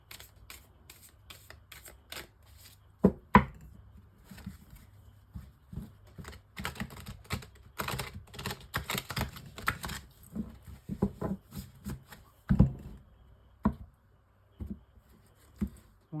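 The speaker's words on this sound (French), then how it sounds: "je prends le tarot de l'illumination pour le tirage en 9 cartes." Tarot cards being handled and shuffled before a nine-card reading, giving a steady run of soft riffling and papery flicks with a few sharper taps and slaps near and clear, without voices.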